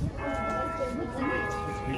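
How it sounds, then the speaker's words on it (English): Church bells ringing steadily, with sustained overlapping tones filling the air outdoors in California, heard continuously throughout. "The bells are ringing."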